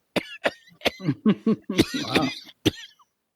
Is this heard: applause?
no